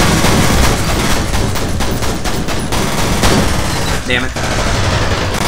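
Rapid video game gunfire rattles in loud, dense automatic bursts almost without pause, close and harsh, while a voice briefly speaks over it.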